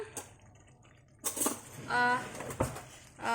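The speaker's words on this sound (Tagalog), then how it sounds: "Haluin lang natin ng ilang minutes." Lasagna roll-up meat filling stirred in a pan, with a quiet opening followed by several clinks and scrapes of a utensil against metal and brief tonal rings, close and moderately loud.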